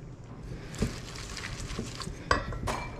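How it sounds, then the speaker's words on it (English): Crispy homemade croutons tumble into a bowl of dressed pasta and are tossed, giving a soft clatter of bowl and utensil with a couple of sharper clinks, close and moderately loud against a steady kitchen background. "All right, croutons going in,"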